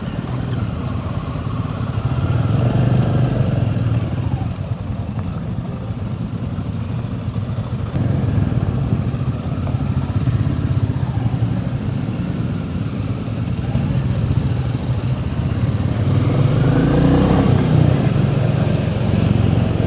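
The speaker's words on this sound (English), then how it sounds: "Classic 350. Listen to this. Oh, it's a lovely sounding bike, isn't it?" A Royal Enfield Classic 350 motorcycle engine runs continuously on a demo-day test ride, its steady low thumping drone rising and falling gently with throttle alongside wind rush.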